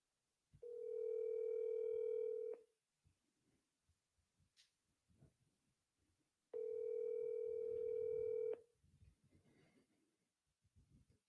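A telephone call being placed: two long, steady ringback tones a few seconds apart, each about two seconds, with quiet room noise and faint movement in the gaps and no talk.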